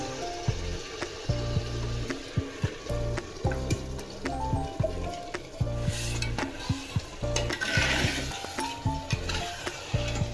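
Chicken pieces frying in oil cooked down with spices for handi chicken, giving a steady crackling sizzle with repeated scraping and clinking of a spoon stirring the pot throughout.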